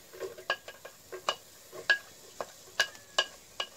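Sliced onion fries gently in sardine oil in a pan, with a faint, quiet sizzle under a series of sharp spoon-on-pan clinks and scrapes as it is stirred.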